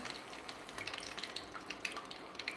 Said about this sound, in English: Should sizzle up right away.